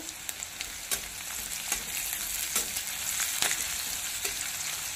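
Garlic sizzles steadily in a hot pan for a bitter gourd dish, a continuous fry with a few sharp crackles and stirring clicks throughout, close and fairly loud.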